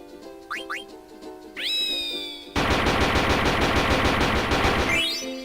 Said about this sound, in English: Does this little machine gun peck thing.